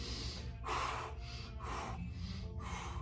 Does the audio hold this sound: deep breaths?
yes